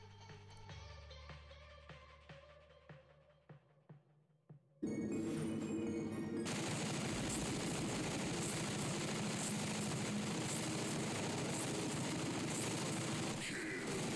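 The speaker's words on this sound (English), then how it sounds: "let's move to our next test, which is the Avenger versus Glory, and see which one performs the best at different ranges" Avenger and Glory heavy weapons firing in the War Robots game: scattered sharp shots over mechanical hum at first, then a sudden, sustained, loud barrage of rapid gunfire that continues unbroken to the end.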